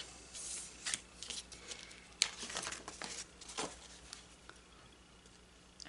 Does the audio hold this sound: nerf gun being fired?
no